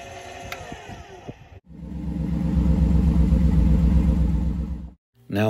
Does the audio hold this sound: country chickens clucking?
no